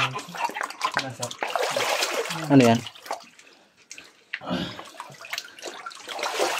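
Water rushes continuously at an outdoor bathing spot, a steady splashing wash that sits under frequent nearby talking and briefly drops in level midway.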